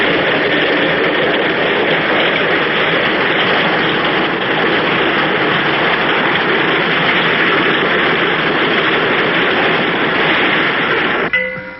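A tractor engine on a mountain farm drones loud and steady throughout, a continuous heavy rumble with no breaks and no voices.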